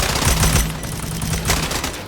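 Rapid automatic gunfire from the Strinova shooter game, a dense, loud burst of shots lasting about two seconds with a short second volley near the end, heard alone without talk.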